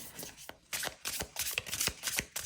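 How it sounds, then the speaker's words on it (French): Oracle cards being shuffled by hand, with repeated riffling and slapping bursts in an uneven rhythm, close and clear with no talking. "On mélange les cartes"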